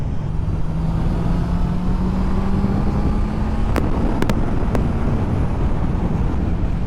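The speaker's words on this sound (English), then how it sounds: "Lovely sound on the old overrun. Down through the gearbox." A 2021 Honda CB650R motorcycle engine on overrun while downshifting through the gears, a low steady drone under heavy wind rush with a few brief sharp crackles midway, no voices.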